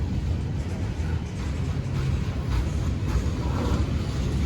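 A train rolls slowly past Depew Amtrak Station with a continuous low rumble and grinding of wheels on rails, steady and fairly close, with no horn.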